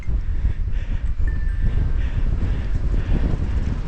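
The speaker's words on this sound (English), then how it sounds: "Oh, she's a breezy spot." Wind buffets the microphone at a breezy spot on a mountain bike trail in Scotland's Tweed Valley, a loud, continuous low rumble with gusty fluctuations and no talk.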